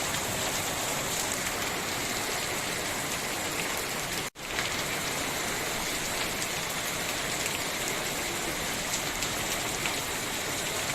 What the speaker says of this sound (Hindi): शाम होते ही अचानक बारिश शुरू हो गई